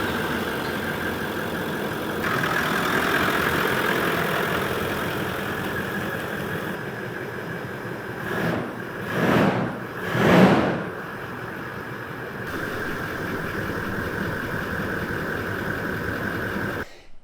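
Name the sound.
Toyota 70 Series Landcruiser exhaust idling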